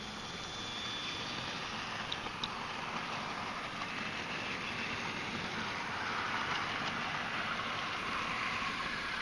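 Steam locomotive hauling a train of five Hawksworth coaches at a Great Western Railway festival, a steady broad rumble and rolling wheel noise sustained throughout, with no voices.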